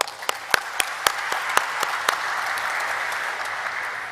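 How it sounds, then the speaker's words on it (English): Applause breaks out at a stock exchange listing ceremony for Concord Biotech Limited, starting with a few sharp, distinct claps that quickly blend into steady, sustained clapping from an audience. "So a round of applause to them."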